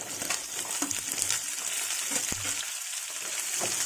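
Garlic and chopped onion frying in a pan for turkey berry chutney, a steady bright sizzle filling the clip, with scattered scrapes and clicks as the pan is stirred.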